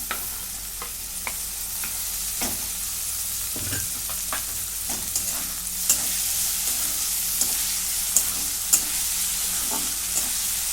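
Tomato sautéed in a pan gives a soft, continuous sizzle, punctuated by scattered sharp clicks and scrapes from a stirring spoon.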